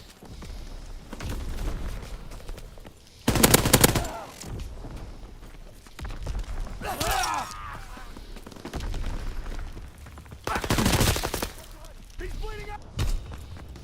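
Weapons fire in the video game Call of Duty: WWII: several separate loud bursts of gunshots break out at intervals, mixed with game thumps and effects, while a player keeps talking over the action.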